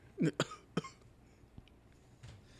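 A few sharp, short coughs near the start of a podcast recording, two or three bursts close together, then quieter scattered sounds with no talking.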